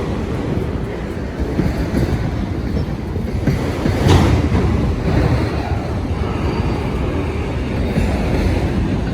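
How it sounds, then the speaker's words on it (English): A long CSX grain freight train, two miles long, rolls steadily past close by with a continuous heavy rumble and faint rail clatter, with no break across the whole stretch. "Wow, there's just no end to this train."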